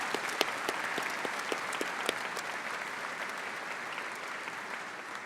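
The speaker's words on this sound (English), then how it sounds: "I would ask that we give one more round of applause for all of their excellence" Audience at the 2019 Augustana University commencement ceremony claps for the faculty, a sustained, fairly loud wave of applause that slowly thins toward the end, with no voices over it.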